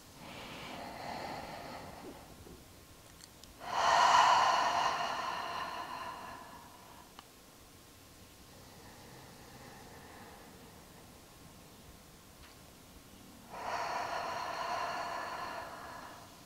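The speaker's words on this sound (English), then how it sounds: "Take 2 to 3 deep rounds of breath, possibly sighing out your exhales." Deep breaths during a power yoga flow: two long, loud exhales, each drawn out for a couple of seconds and separated by a quiet pause, with soft room hiss throughout.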